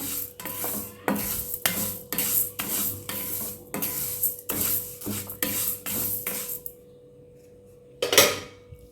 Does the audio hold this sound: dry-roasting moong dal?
yes